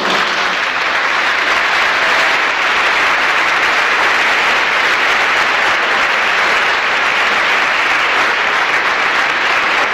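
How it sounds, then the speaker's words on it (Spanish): Sustained applause from an audience at a choir performance in Malvinas Argentinas, thick continuous clapping at a loud, unchanging level for the full stretch, with no talk over it. "y con un fuerte aplauso lo comprometemos a que el Gordo Kennedy nos cante algo más"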